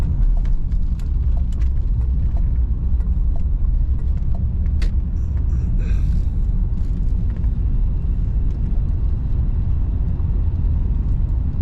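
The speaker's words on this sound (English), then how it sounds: "Car goes straight down the road." A 1991 Cadillac Brougham D'Elegance cruises down the road on a windy day, a steady low engine and road rumble filling the cabin with occasional faint clicks and rattles.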